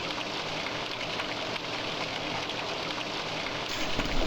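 Steady, dense rain hisses throughout a horror video game scene, a broad continuous patter with no breaks that holds at an even moderate level and with no voices.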